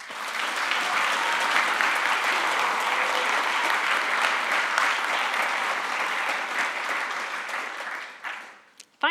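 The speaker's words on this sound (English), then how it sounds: "So please give a huge round of applause" An audience applauds steadily and loudly at a talk on disinformation after the pandemic, a dense clapping that holds for several seconds before fading out.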